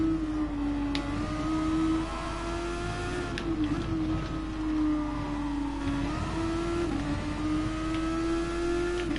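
A Super Formula race car's engine in Gran Turismo Sport at the Red Bull Ring holds a steady high whine that dips briefly on shifts and lifts, loud and close throughout with no talking.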